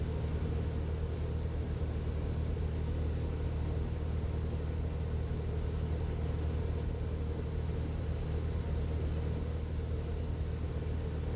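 Steady droning hum of a light aircraft engine and propeller heard from inside the cabin with the prop set to 2100 RPM, constant and even in level, faint and alone.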